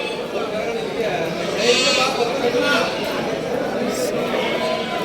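Bandur sheep and lambs at a busy Mandya sheep market, with repeated bleats rising over steady crowd chatter while someone talks close by.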